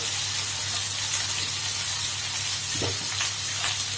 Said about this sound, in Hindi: नमक डाल के हम फ्राई करें